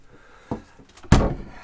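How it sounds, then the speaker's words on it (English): A bathroom door in a holiday caravan at a lakeside caravan park is pushed shut: a soft knock, then a louder wooden thud with a short rattle as it closes, alone without speech. "these doors you can just close off when you are going to bed"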